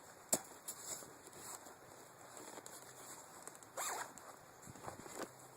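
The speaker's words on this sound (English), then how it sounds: "Begin zipping them up." Zips on a bag or cover in a camper van being pulled closed, several short rasping strokes with small clicks, quiet and close in a hushed space.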